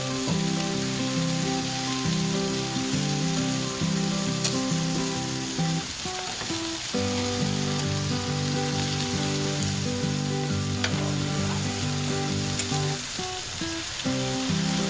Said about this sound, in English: let them go for about another 1 minute or 2 minutes just to get a little bit of a sear mark on them